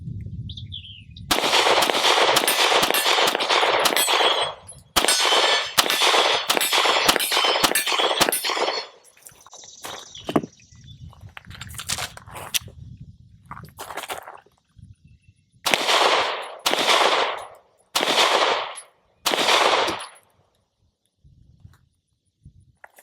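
A Sig P365 XL pistol fires rapid strings of shots, each volley a dense run of sharp cracks at close range, broken by pauses and handling noise partway through.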